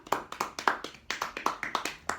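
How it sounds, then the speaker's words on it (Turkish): Steady hand clapping at a football match, a regular run of sharp claps at a brisk, even pace, fairly close and alone with no talking. "Alkışlayalım."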